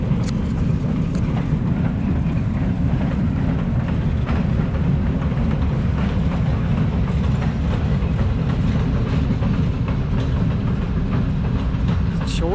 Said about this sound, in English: this railroad car is going by